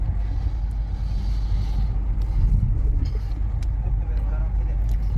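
A BYD car on the move gives a steady low road rumble and tyre noise from inside the cabin, with people talking over it.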